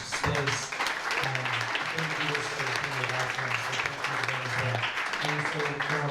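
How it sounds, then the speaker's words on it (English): An audience at a pub event claps and cheers in sustained, dense applause, with a voice speaking over it throughout. "Big round of applause for the Cascadia Climate Action volunteers for putting on these events"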